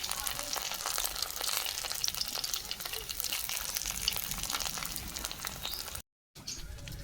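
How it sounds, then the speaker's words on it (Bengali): Pumpkin leaves fry in hot oil in a Bengal village kitchen, a continuous crackling sizzle running nearly throughout, close and fairly loud, broken by one short silent gap near the end. "কুমড়ো পাতা ভাজা হচ্ছে"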